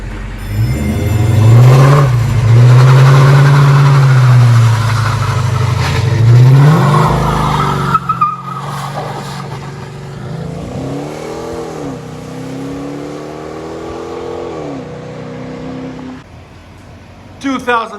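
A 2019 Dodge Charger R/T 5.7L HEMI with a loud aftermarket exhaust rumbles at close range, surging through two big revs before dropping to a deep idle, where a few lighter blips follow and speech can be heard.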